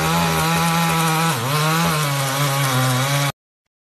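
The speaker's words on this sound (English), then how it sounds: "Now, slide it forward against the wooden" A belt sander running steadily as it is pushed forward along a wooden piece, a loud continuous motor whine with a brief dip in pitch midway, then cutting off abruptly.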